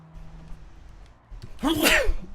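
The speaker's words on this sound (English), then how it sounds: "Oh, what a place to have a sneeze." A single sharp human sneeze bursts out close and loud, preceded by a quick inhale, standing out over a low hum and murmur in the background.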